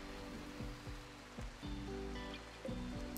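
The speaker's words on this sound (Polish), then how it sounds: "jest jeszcze deszcz na zewnątrz" Steady rain falling outdoors in the video game RimWorld, a soft continuous hiss over a low game music drone with a few soft tones.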